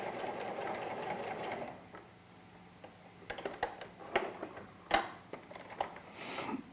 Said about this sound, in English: take our second piece of elastic, angled back in the corner there, line that up, we'll sew to the corner